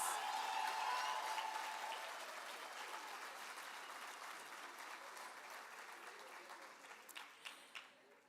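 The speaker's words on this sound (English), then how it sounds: "Please, a final round of applause, please." Audience applause at the 16th annual Thabo Mbeki Africa Day Lecture: dense, sustained clapping from a large hall crowd, loudest at the start and slowly thinning, with a few sharper claps near the end.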